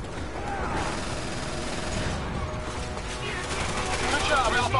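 A machine gun fires continuously in a video game, with sustained dense rattling bursts amid a noisy battle mix. Voices talk faintly underneath.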